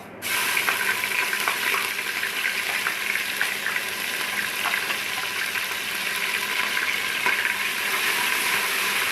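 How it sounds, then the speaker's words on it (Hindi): Garlic and ginger paste with spices fries in a pan for mutton champ salan, a dense, steady sizzle with small crackles and pops throughout, close and continuous with no voices. "इसको मिक्स करते हैं और 1 से 2 मिनट हम इसको फ्राई करते हैं, भूनते हैं इसको।"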